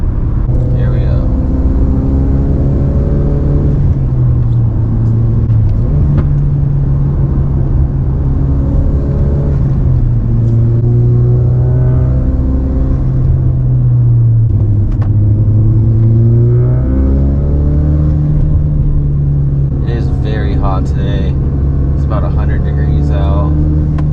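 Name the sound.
car engine accelerating on road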